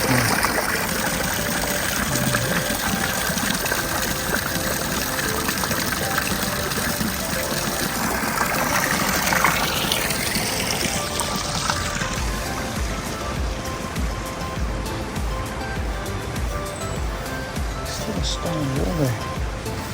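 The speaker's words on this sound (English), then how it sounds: "And there's water coming down the mountains." Mountain water pouring down near Tirano in northern Italy, a steady loud rushing stream heard on a walking tour, with louder splashing surf-like noise in the first half that settles into a constant flow.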